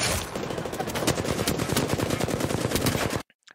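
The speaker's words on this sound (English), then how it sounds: "My flatline shot was horrendous right here." Flatline assault rifle in the Apex Legends video game firing one sustained burst of rapid, evenly spaced shots, loud and close, then cutting off abruptly into silence.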